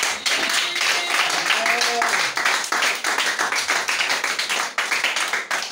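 Church congregation clapping and applauding, a dense, continuous wash of many hands close and loud, with voices mixed in.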